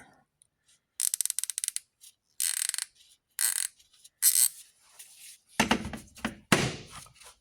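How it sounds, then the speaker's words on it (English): Bursts of rapid ratchet clicking in short runs, close and crisp, from a Tightspot ratchet, followed by a few heavier clunks and knocks of handled metal tools and impact sockets. "It feels like a good ratchet. It's got a good sound to it."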